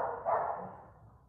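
A single short dog bark, faint and somewhat distant, rising quickly and fading over about a second in an otherwise quiet indoor room.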